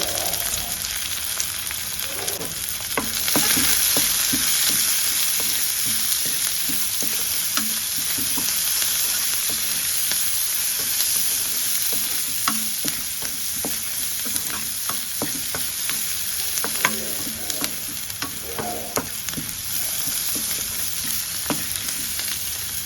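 Chopped onions and green chillies fry in a pan with a steady, close sizzle over more than twenty seconds, broken by repeated scraping and clicking of a stirring spoon.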